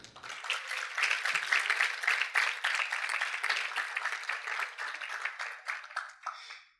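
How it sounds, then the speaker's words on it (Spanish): A crowd applauding, dense clapping that holds steady for several seconds before tapering off at the end. "reciban con un fuerte aplauso"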